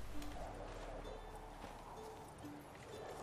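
Horse hooves clip-clopping in The Witcher 3 video game, a steady run of soft repeated hoofbeats under a constant low ambient rumble, with faint speech mixed in.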